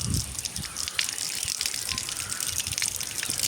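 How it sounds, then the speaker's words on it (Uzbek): Water runs from a tap in a steady, hissing gush while things are being washed, close and continuous with faint splashes and clatters mixed in. "Buni kranga yuvamiz."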